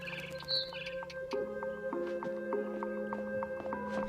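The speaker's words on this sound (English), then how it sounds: "Then I heard chirping outside my window." A barn swallow chirps outside a window in the game What Remains of Edith Finch, brief high tweets over a quiet ambient backdrop with sustained tonal music-like hum.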